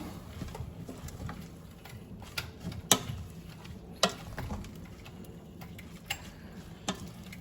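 White wine being stirred into braising lamb shanks in a pot, a low sizzle under scattered scraping and sharp knocks of a utensil against the pan, close and fairly quiet with no one talking.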